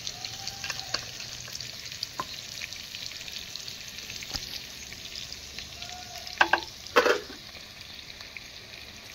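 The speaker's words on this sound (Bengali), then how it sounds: "আর ওদিকে আলু ভাজা চলছে আমাদের।" Steady crackling sizzle of potatoes frying in a pan on a clay stove, with a couple of louder clinks of a utensil stirring near the end.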